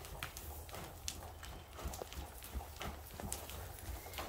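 Horse hooves walking on the ground in steady clip-clop footfalls at close range, a regular rhythmic pattern with no talk over it.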